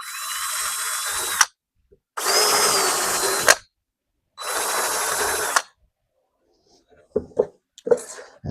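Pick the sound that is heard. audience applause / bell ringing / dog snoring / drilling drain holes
drilling drain holes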